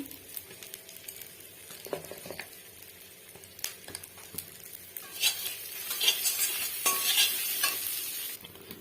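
A spice paste of ginger and ground coriander sizzles in a pan after a splash of water, with steady frying hiss that swells louder toward the end and intermittent scrapes and clinks of a spoon stirring.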